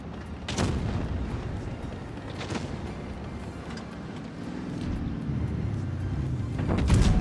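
Heavy tank cannon shots in the game WoT Blitz, a few loud booming blasts spaced seconds apart over a low rumbling engine drone.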